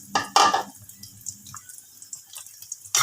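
Thick first-pressed coconut cream poured into a cooking pot with bamboo shoots, a couple of splashy glugs at the start, then soft liquid drips and small clinks.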